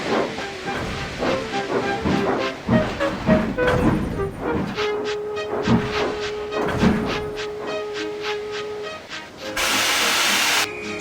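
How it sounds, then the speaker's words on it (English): A steam locomotive hisses and chuffs in bursts, ending in a loud steady blast of escaping steam, with a faint whistle-like tone in between. "Gordon, with much noise and blowing of steam, got ready to back onto the train."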